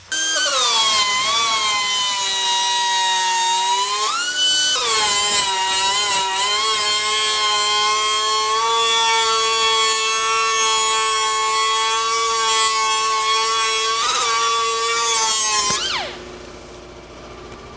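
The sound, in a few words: angle die grinder beveling and polishing metal edges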